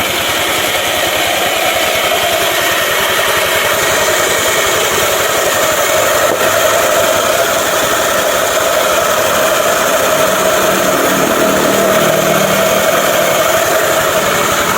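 A motorcycle engine runs steadily at close range after a crankshaft rebuild, a loud continuous hum with slight rises in pitch as it is revved, and no voices.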